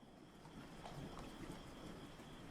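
Steady rain ambience from a tabletop RPG soundboard, a soft continuous wash of falling rain with a faint underlying rumble, even and unbroken throughout, no voices.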